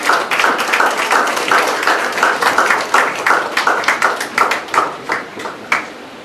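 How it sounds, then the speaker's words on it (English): Enthusiastic applause from a crowd at a school auditorium inauguration, many hands clapping in dense bursts that gradually thin out toward the end. "A huge round of applause for them."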